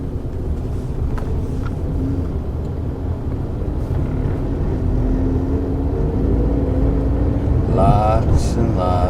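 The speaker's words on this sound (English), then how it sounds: "Lots and lots of traffic." Busy road traffic in Yangon, a steady dense rumble of engines with continuous passing vehicles, and a brief tonal horn-like burst near the end.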